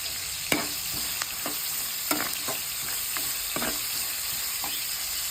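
Sliced onions, green chillies, crushed ginger and garlic fry in hot oil for a chicken curry, a continuous sizzle punctuated by several distinct scrapes and taps as a spoon stirs them around the pan.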